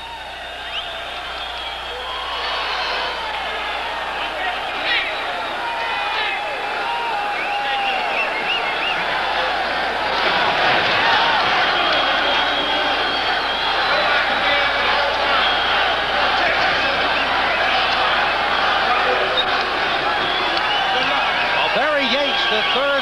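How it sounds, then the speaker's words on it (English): A boxing arena crowd roars before the Robert Quiroga versus 'Kid' Akeem Anifowoshe world championship fight, a dense, steady wall of voices and shouts that swells louder partway through, with a commentator talking over it. "And this crowd, I think, has been pumped to a limit to get ready for this one"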